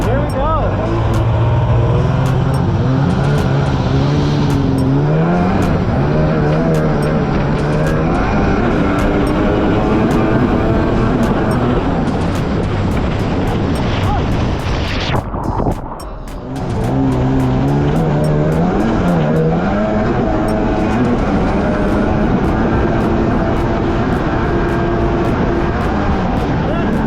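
A Polaris Octane stand-up jet ski's engine runs nearby, revving up and down in rising and falling sweeps with a brief drop in the middle; voices can be heard faintly under the engine.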